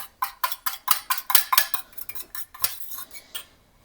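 A utensil stirs milk into a vegetarian dish, rapid rhythmic metal-on-pot scraping and clinking strokes up close, slowing toward the end.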